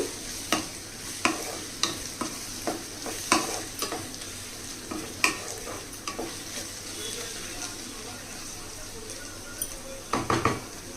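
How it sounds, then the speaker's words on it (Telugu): Ginger garlic paste being stir-fried in a pan for an egg curry, with a soft steady sizzle under repeated scraping and clinking strokes of a spoon against the metal, close and fairly quiet, no talking. "అల్లం వెల్లుల్లి పేస్ట్ పచ్చివాసన పోయేంత వరకు ఇలా కలుపుతూ వేగించాలి"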